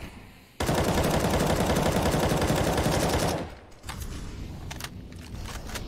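Counter-Strike gunfire: a loud sustained automatic burst lasting about three seconds, then scattered sharper shots over continuous game noise.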